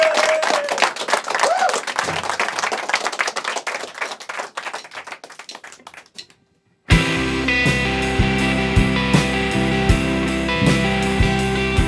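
Studio audience applause at the end of an episode, a dense burst of clapping that thins out and fades to silence, then music with a steady beat starts abruptly.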